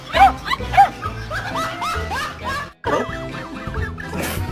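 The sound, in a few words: dogs whimpering and crying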